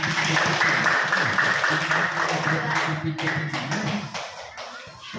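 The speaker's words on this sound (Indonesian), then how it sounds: "Berikan aplaus untuk mereka." A classroom of students claps for a presenting group, steady sustained applause at moderate loudness that tapers off toward the end with voices mixed in.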